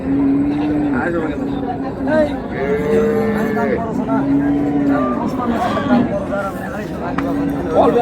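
Cattle at Raniganj livestock market in Dinajpur give repeated drawn-out moos at regular intervals, close and loud, over a background of crowd chatter and talking.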